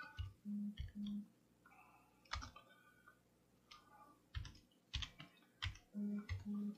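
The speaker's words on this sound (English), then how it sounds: "So what you're going to type in is lock type" Keys clack quietly on a computer keyboard in bursts of quick clicks separated by short pauses, heard close but at low level alongside a few soft low beeps.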